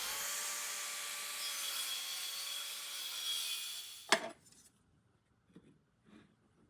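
A Rutlands cordless mitre saw cuts wood at a 45-degree angle, its steady whine running for about four seconds before stopping abruptly, followed by a sharp clack and a few faint knocks.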